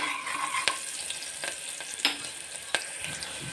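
Onions frying in a pan, a steady sizzle with a few sharp clicks of a spoon against the pan and no talking.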